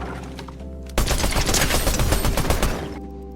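Rapid gunfire from the video game Fortnite sounds in one dense, loud burst lasting about two seconds, with quieter game sounds before and after.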